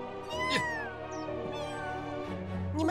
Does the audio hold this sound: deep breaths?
no